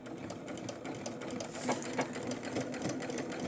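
A sewing machine stitching forward and then back stitching on fabric, a continuous fast whirring buzz of the needle with slight shifts in rhythm, close and steady.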